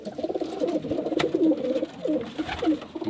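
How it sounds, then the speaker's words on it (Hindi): Sialkoti pigeons coo in soft, repeated low throaty calls that roll on steadily, close by, over a busy background of other birds. "एक ये कबूतर इन्होंने पकड़ा है जी,"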